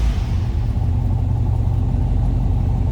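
A 1964 Chevrolet Corvette convertible engine idles steadily after a cold start, a loud, close, continuous low rumble with no talking.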